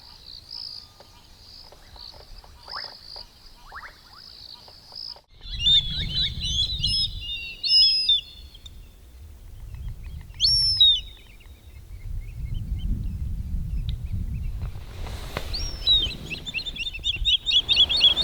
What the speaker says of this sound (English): You can hear them still alarming in the background there.